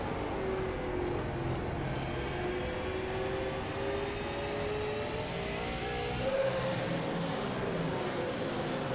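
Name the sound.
super late model race car engine on track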